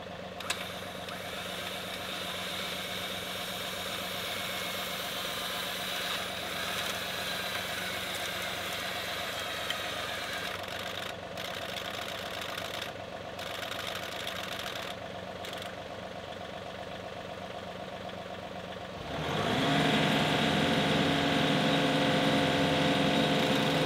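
A tractor engine runs steadily at idle while winching out a tree stump through snatch blocks, then revs up abruptly under load near the end, a continuous mechanical drone with a steady knock.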